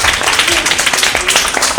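An audience applauds a singer at an Eid stage show, with brisk, dense clapping at steady volume throughout the short burst.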